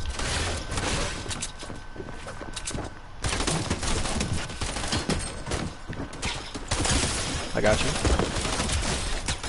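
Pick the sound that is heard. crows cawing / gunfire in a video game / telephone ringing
gunfire in a video game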